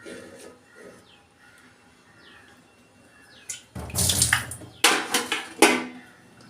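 Soaked amaranth greens being washed by hand in a vessel of water, rinsed several times: a quiet stretch gives way to loud, repeated bursts of sloshing and splashing water up close.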